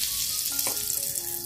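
Asafoetida hits hot oil in a wok with a bright, close crackling sizzle that holds steady. A soft clink of stirring comes midway, and no one speaks.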